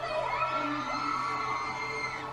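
A large concert crowd on a tour cheers and screams steadily, a sustained, high-pitched roar of many voices with no pauses.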